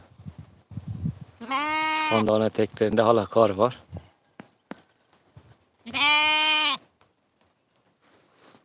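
Sheep and lambs, including a lamb with a broken leg, bleat in long wavering calls, two loud bursts close by, with a person speaking briefly between them.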